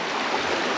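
A Lake District river rushes steadily nearby, a loud, continuous broadband roar of flowing water with no other sounds.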